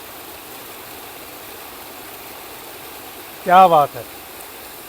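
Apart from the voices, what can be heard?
waterfall flowing from above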